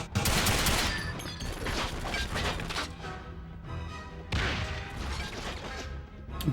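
Grenade blast and gunfire in the PS2 game 007 Quantum of Solace at the Eco Hotel, loud crashing bursts of rapid shots and explosive impacts, the first heavy burst at the start and another surge midway, with no talking.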